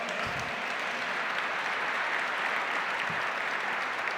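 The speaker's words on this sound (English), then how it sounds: "We can clap for America. Let's clap for America." An audience at the Oklahoma Governor's Arts Awards claps for America, a dense uniform roar of applause sustained at full strength from start to finish.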